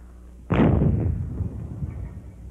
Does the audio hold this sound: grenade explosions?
yes